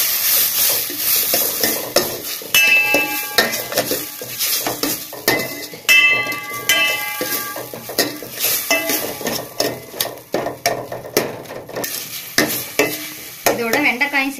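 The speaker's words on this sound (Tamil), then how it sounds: "இதோட உப்பு சேர்த்து வதக்கலாம்." Vegetables sauté with salt in a metal pan for a ladies finger sambar, loud sizzling under brisk, repeated clanks and scrapes of a spoon on the pan, with bright ringing metallic touches.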